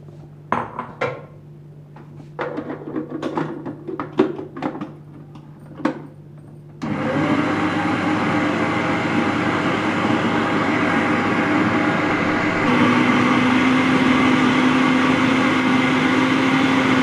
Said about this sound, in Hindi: अब हम इसको चॉपर मशीन में डालते हैं और इसको ब्लेंड करते हैं।